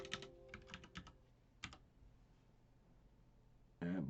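Close, quiet typing on a computer keyboard comes in a few short bursts of key clicks, then stops, followed by a sudden louder tone at the end.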